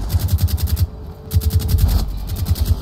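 Suppressed automatic gunfire in a video game comes as rapid rhythmic bursts of muffled shots, two or three volleys separated by short pauses, loud and close with no speech.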